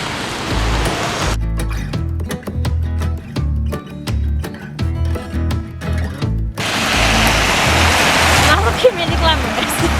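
Heavy rain at the British seaside in Skegness keeps up a dense, steady hiss, with a stretch of rhythmic thumping beats in the middle and talk faintly mixed in.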